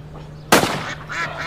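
A duck quacking sound effect in an Egyptian comedy sketch, one loud, close, nasal quack bursting out suddenly after a quiet moment and trailing off.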